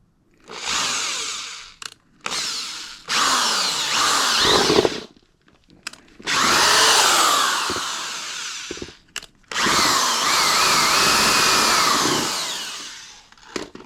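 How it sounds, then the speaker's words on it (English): A power drill whirs in several loud bursts of a few seconds each, pitch rising and falling as it bites, separated by short pauses. "Almost done with the drilling."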